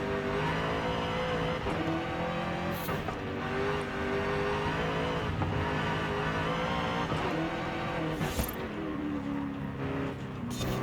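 Jaguar SVR engine in Forza Horizon 5, rear-wheel drive with lengthened gears, revving and accelerating out of corners with a sustained loud tone that rises and dips through shifts, alone without voices.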